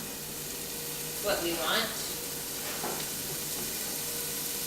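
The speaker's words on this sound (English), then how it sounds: "Nice sizzle action." Chopped onion sizzles in a hot pot for homemade spaghetti bolognese sauce, a steady soft hiss with brief stirring scrapes, while a person talks over it.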